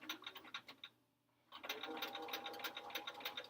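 A sewing machine stitching together Splendid Sampler quilt blocks runs in quick rhythmic bursts, pauses briefly, then hums steadily again, close and moderately quiet with no talk.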